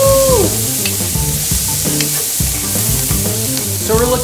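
Celery, onion and carrots sizzling loudly in a hot pan for braised lamb shanks, a dense steady frying hiss with occasional stirring scrapes, close up, no speech.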